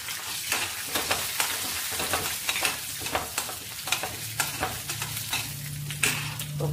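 Dal lentils frying in a pan with cumin, stirred by a spoon that scrapes and taps in a quick irregular rhythm over a constant close sizzle, with no voices.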